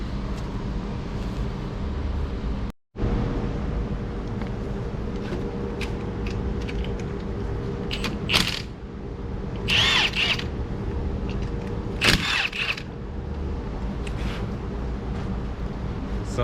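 Someone removes 14mm brake caliper bolts on a Hyundai Elantra with a power tool: a steady mechanical whir broken by a brief cutout, followed by several metallic clinks and scrapes close by.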